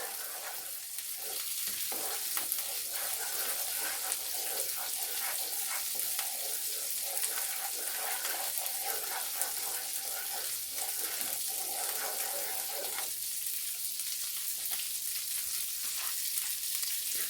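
Breakfast food fries in a home kitchen pan with a steady, close sizzle and occasional scraping stirs throughout, the sizzle continuing without any talk.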